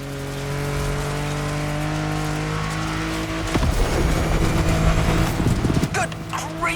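A loud off-road car engine in a racing video game drones steadily, then roars and revs harder with rumbling and rattling as it speeds along at full speed.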